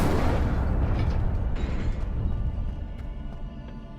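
Incendio fire spell cast in the video game Hogwarts Legacy: a loud, roaring fiery burst that fills the whole clip and slowly tapers off, with no talk over it.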